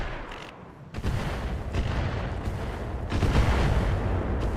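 Heavy weapon fire at a rifleman in RogueTech, a mech battle game: a string of booming shots and cannon blasts, with sharp onsets near one and three seconds and rumbling bursts between.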